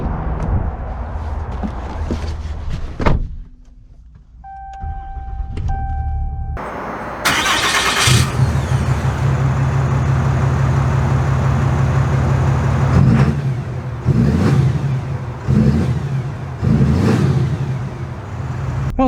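2022 Ram 2500 Tradesman with a Cummins diesel engine: an electronic chime, then the starter cranks and the diesel catches into a loud, steady idle with rough low-pitched clatter, revving slightly as it pulls away.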